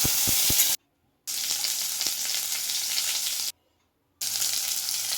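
Raw green mango pieces frying in hot oil with panch phoron, a loud close steady sizzle with a few stirring knocks at the start, broken by two short silent gaps.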